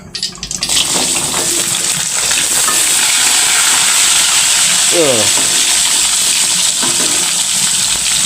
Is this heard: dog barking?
no